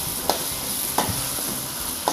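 Spice paste for pecak mujair, a tilapia dish, fries in a pan with a steady close sizzle. Three sharp scrapes of stirring punctuate the frying, and no one speaks.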